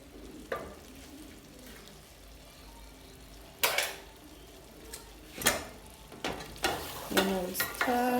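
Pork with fresh dhania leaves stirred in a pan, giving a quiet sizzling bed broken by scattered scraping strokes and a few sharper utensil knocks that grow more frequent toward the end, all without talk.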